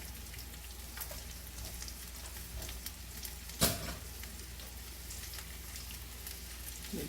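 Bacon and sausage fry in a pan with a steady, crackling sizzle that runs the whole time, broken by a single sharper clatter near the middle; nobody speaks.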